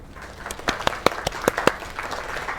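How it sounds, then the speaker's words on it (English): Scattered applause from a small audience in the video game Lake, a brief patter of separate claps rising and fading over a couple of seconds. "Another round of applause."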